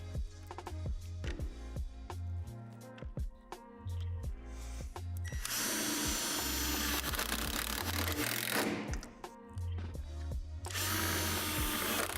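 Power drill driving self-tapping screws through a center frame pad just below the rim of a Lifetime Power Lift XL portable basketball hoop, heard as bursts of close, loud whirring and grinding with short pauses between them.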